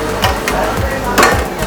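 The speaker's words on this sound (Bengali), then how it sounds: "ইমু আর ডাক অ্যান্ড শার্ক তিনটে একসাথে রান্না হচ্ছে" Emu, duck and shark meat sizzling together on a barbecue grill, a steady loud frying hiss with a few faint scraping clinks.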